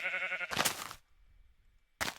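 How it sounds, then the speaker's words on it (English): Sheep bleats from the video game Minecraft: a clear, buzzy tonal bleat, then a short noisy burst, a quiet gap and another burst starting at the end, crisp and isolated with no talk. "That sheep is eating my grass."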